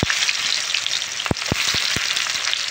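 Onions hit hot oil in a pan for a vegetable curry, giving a steady bright sizzle with a few sharp clinks of a utensil against the pan, close and moderately loud.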